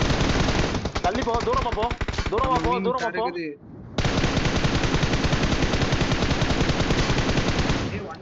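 Sustained machine gun fire in the mobile game BGMI, rapid close bursts that run almost continuously with one short break, loud and dense, while a player's voice talks over the shooting.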